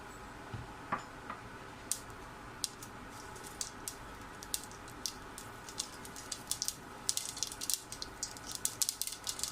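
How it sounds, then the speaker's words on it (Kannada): Mustard seeds pop in hot oil for tempering while bread masala is cooked, giving scattered sharp crackles and ticks over a steady low sizzle, growing denser toward the end. "ನೋಡಿ, ಸಾಸಿವೆನೂ ಚೆನ್ನಾಗಿ ಪಟಪಟ ಆಗಬೇಕು."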